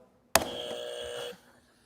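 A single game-show buzzer on TV sounds once, a sharp, steady electronic tone lasting about a second that stops abruptly, alone with no talk.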